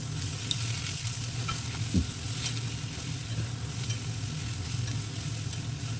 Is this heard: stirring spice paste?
yes